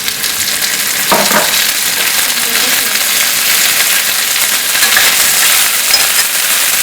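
Green peas tipped into a hot pan already frying onion for Mumbai roadside Chinese bhel, giving a steady close sizzle with stirring clatter and a brief burst as they land.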